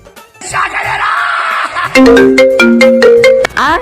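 A phone ringtone plays a bright electronic melody after a stretch of noisy, shouting commotion.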